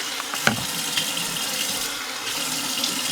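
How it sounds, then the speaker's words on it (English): Cold tap water runs steadily into a sink as a face is washed outdoors in Sweden at about two degrees, a constant broadband rush with a few small splashes near the start and no talking. "you wash your face with cold water."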